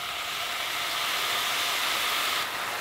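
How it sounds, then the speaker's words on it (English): Beans with aminos sizzling in a pan, a steady, fairly faint frying hiss that holds evenly throughout with no talk. "Sizzling."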